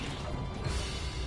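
The Expelliarmus spell is cast in the video game Hogwarts Legacy, producing a loud, dense crashing burst of magic that stays steady through a short stretch.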